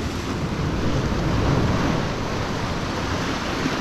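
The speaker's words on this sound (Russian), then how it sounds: "Красота, да, когда море волнуется, это особый кайф" Rough, agitated sea waves surging continuously near the shore below a hotel in Turkey, a steady loud broadband roar with wind buffeting the microphone and no talking.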